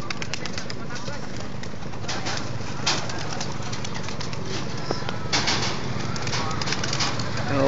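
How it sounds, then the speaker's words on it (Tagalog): Racing pigeons coo repeatedly in the foreground at a race training release in Unisan, soft rolling calls over a steady background hum, with occasional wing flaps. "Ito mga ibon natin."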